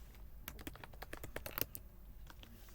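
Rapid typing on a computer keyboard while entering code, with a quick run of close, crisp key clicks that slows into a few scattered taps.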